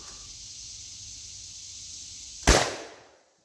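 A single sharp shotgun blast fired outdoors, a sudden loud crack after a stretch of quiet hum, followed by a short decaying echo that fades to silence.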